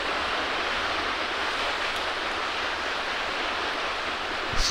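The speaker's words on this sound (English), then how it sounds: "Oh, it's pounding water." Continuous rushing water from Mount & Blade: With Fire and Sword, a broad, steady wash like pounding waves or a torrent, moderately faint and unbroken, with no voices over it.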